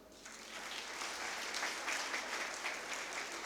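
Audience applause at the close of a two-day international university conference, a dense sustained patter of clapping from a seated crowd that builds slightly and holds steady, no voices over it.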